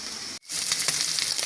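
Bacon offcuts from the market fry in a pan, giving a steady, close crackling sizzle with small pops across most of the stretch, broken only by a brief silent gap near the start.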